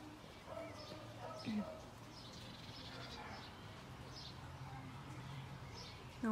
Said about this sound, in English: I always hear the birds in the background.